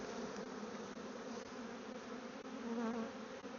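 Honey bees swarm around an opened hive on a maple farm, a dense, continuous buzz of many insects close by, wavering in pitch as individual bees pass near.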